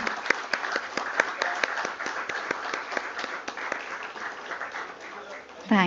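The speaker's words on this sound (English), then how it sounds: "And that's our cue to give a huge round of applause" Audience applause at a company IPO listing ceremony: a crowd claps steadily in an even, dense patter with a few sharper claps standing out, ending as a voice comes in.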